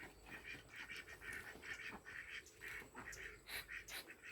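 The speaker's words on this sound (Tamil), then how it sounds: "வாத்தில் கூட பெண் வாத்து தான் சவுண்டு அதிகமாக விடுது" Ducks on a farm quack in a run of short, repeated calls, with the females the noisiest; the calls sound faint and somewhat distant, with no talk over them.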